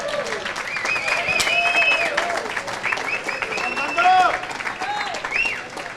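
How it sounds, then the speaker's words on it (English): Applause and crowd noise at a championship finals event, running under a loud announcer's voice that talks over the clapping throughout. "let's hear some applause"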